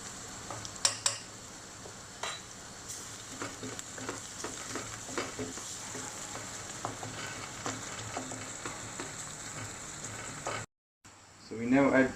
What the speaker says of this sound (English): now you add the garlic and the ginger